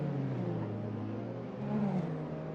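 A TCR touring car in a league race accelerates out of a corner, its engine holding a steady, droning note that rises slightly in pitch toward the end, moderately loud and heard alone.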